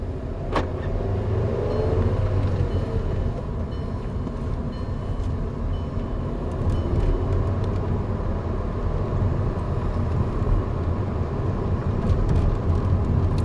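A VW Jetta with a 2.5 engine and a misfire, out on a test drive: a steady low engine and road rumble holds throughout with a faint tonal whine and light rattles, close and continuous, no talking.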